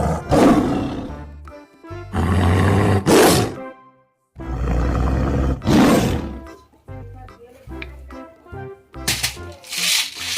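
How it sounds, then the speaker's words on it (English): A plastic toy tiger plays recorded roars in several loud, close bursts separated by short pauses, with rattling clicks and a few quieter sounds between them. "This is tiger."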